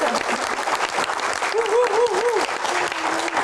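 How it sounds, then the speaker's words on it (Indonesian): An audience at a Q&A event gives loud, sustained applause as guest speaker Bahlil Lahadalia is welcomed, while a voice speaks over the clapping. "Tepuk tangan untuk Pak Bahlil."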